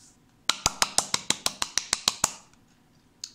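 Hand clapping captured as a surround sound recording: about eleven sharp, evenly spaced claps in quick succession, close and crisp, followed by a short pause and one last fainter clap.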